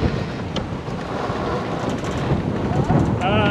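Steady wind buffeting a sailboat at sea off Portugal, a loud continuous rushing roar that fills the whole stretch, with faint water noise and brief bits of voices underneath.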